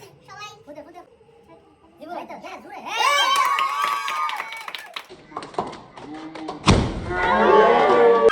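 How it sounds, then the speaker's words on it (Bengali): At an Eid celebration, one firework goes off with a sudden loud bang late in the moment, rising over the lively voices of children and adults talking nearby. "এখন লাস্ট বাজি ফোটাবো, যেটা অনেক সুন্দর করে ফুটেছে"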